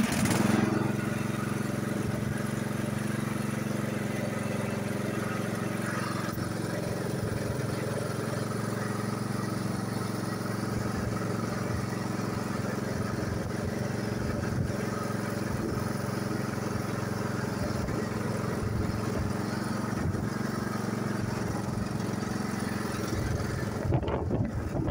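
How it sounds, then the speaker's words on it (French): A Castelgarden/Stiga ride-on lawn mower tractor runs steadily throughout, its engine a continuous loud drone buffeted by heavy wind noise across the microphone, with no voices over it. "En attendant, le tracteur marche très bien."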